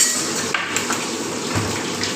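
Mutton curry with cumin, ginger and garlic being stirred in a cooking pot, giving a steady scraping and clinking of a spoon against metal with a few sharper knocks, close and continuous with no talking.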